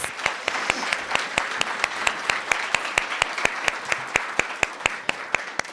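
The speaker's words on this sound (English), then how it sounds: "Let's give them a round of applause." An audience at a poetry recitation finals applauds, with steady rhythmic claps standing out sharply above a softer bed of crowd clapping, evenly paced throughout.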